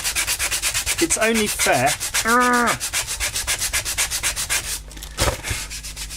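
Steady back-and-forth scraping of sandpaper rubbing wood, rhythmic and close, with a brief voice over the strokes.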